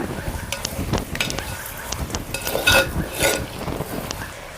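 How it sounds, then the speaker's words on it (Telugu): Chicken coated in ginger-garlic paste stirred in a clay pot over a wood fire, giving a steady scraping, shuffling churn with soft clatters and a light sizzle, close and continuous without talk. "పచ్చివాసన పోయింది వేసి చికెన్ అంతా కలిసేలాగైతే ఒకసారి కలుపుకుందాము"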